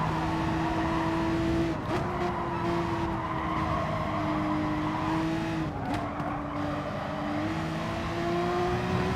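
A Porsche 911 RSR race car in Gran Turismo Sport howls along at high revs, its engine pitch rising and dipping through corners with tire squeal, loud and continuous with no talk.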